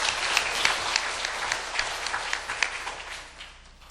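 Thanksgiving applause from a church congregation on its 65th founding anniversary Sunday: dense, even clapping from many hands, with sharper individual claps standing out, tapering off slightly at the close.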